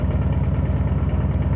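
A 2023 Harley-Davidson Breakout with a 117ci engine and a stage-one Rinehart 2-into-1 exhaust idles steadily, a deep, even rumbling throb heard close up with no talking.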